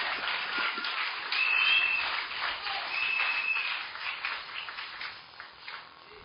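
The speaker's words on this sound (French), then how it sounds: "Acclamez s'il vous plaît." Applause from a church congregation at a French-language sermon, a steady wash of clapping that swells and then thins a little toward the end, with no voices over it.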